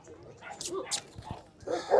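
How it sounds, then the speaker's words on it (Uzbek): A Central Asian shepherd (Turkmen alabai) puppy gives several short yips and whimpering barks at a dog market, close by and mixed with nearby voices. "Cho'pon kuchuk aka, turkmen kuchuk."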